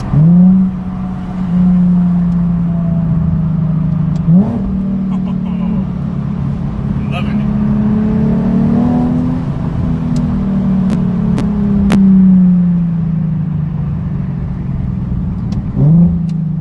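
Nissan 370Z with a newly modified exhaust, its engine held at a steady droning rev with occasional blips, loud and close, while people talk over it.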